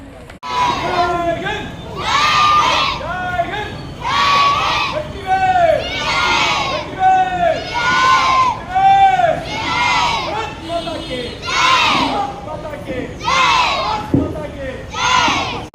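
A large crowd cheers and shouts with high excited voices, loud and sustained in repeated swells, with a steady wash of clapping underneath.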